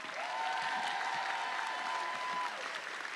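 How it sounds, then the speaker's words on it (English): An audience at The Dark Room, a live comedy game show at Worldcon 2024 in Glasgow, claps steadily for a few seconds, with a thin whistling tone running through the applause. "Clap your hands for them."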